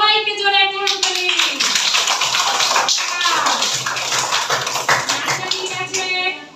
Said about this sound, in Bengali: সবাইকে জোরে একটা হাততালি।